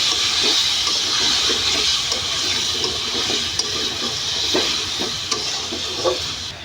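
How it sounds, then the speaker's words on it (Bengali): Potatoes sautéing in a pan for a prawn, ridge gourd and potato curry, a continuous hissing sizzle with soft scraping stirs, loud and close with no talking. "এখন আলু দিয়ে খুব ভালো মতো কষাবো"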